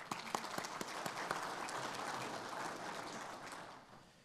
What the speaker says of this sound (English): I'm gonna give you a big round of applause.